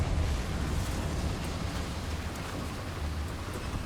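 A Confringo fire spell explosion in Hogwarts Legacy, a deep, loud rumbling blast that trails off into a steady roar without talk.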